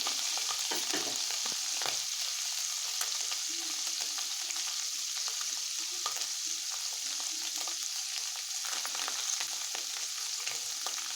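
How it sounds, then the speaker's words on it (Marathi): Paneer frying in a pan, a continuous, fairly quiet crackling sizzle that holds steady throughout with a few faint stirring clicks, no voices. "हलकासा कलर त्याचा चेंज होईपर्यंत पनीर परतायचं आहे"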